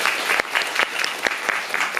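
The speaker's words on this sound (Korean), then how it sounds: "박수 한번 부탁드리겠습니다" Audience applause fills a theatre during a cast stage greeting after a performance: a dense, steady wash of clapping from many hands, with a few sharper claps standing out, loud and close throughout.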